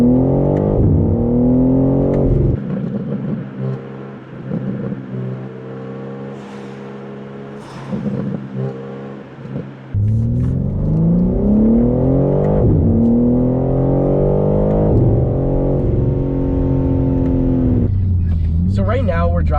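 A 2024 BMW M3 Competition in manual mode downshifts and accelerates on city roads, its engine note rising in repeated climbing sweeps between gear changes, loud and close, with someone talking over it.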